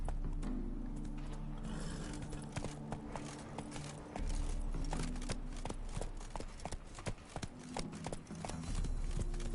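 Steady clip-clop of the horse Roach's hooves in The Witcher 3, with a continuous walking rhythm of close, distinct hoofbeats over ambient background.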